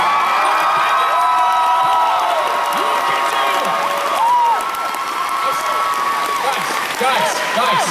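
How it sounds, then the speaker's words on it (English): A large convention crowd at an anime event opening claps, cheers and whoops loudly and steadily, with excited shouts rising over the dense roar throughout. "take your right hand and then repeatedly hit against your left hand to clap"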